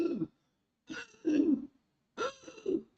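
A voice imitating a child's barking croup cough: three short, harsh, hoarse barks spaced about a second apart, close and fairly loud, with silence between.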